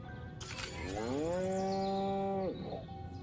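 A cow moos once in the video game Destroy All Humans, a long, loud, drawn-out low call with a falling tail, heard close and alone after a brief sharp noise.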